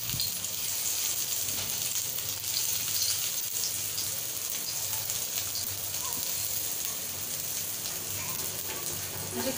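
Bitter gourd slices coated in semolina fry in hot oil with a constant dense hiss and crackle, steady and close throughout with no speech.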